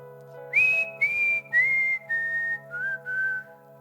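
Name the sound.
whistling imitating a bird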